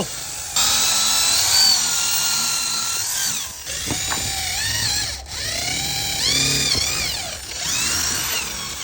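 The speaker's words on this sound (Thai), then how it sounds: "แล้วก็ทำการเจาะรู" A power drill boring holes into bamboo for a hammock, its high whining motor running loud and steady for several seconds, with pitch dips and restarts as the bit bites and pulls out, and no voices.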